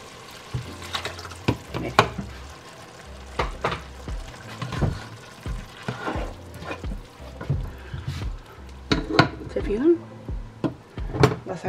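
Water poured into a pan of ground beef with green beans and tomato purée, heard as splashy, clattering bursts scattered throughout and mixed with kitchen handling noise, while a person talks.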